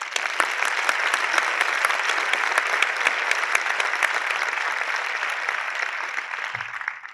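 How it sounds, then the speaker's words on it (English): An audience claps steadily and fairly loudly throughout, a dense continuous round of applause at a talk on dialogue and peace, fading slightly only at the very end. "I think a big round of applause for the Peace Center."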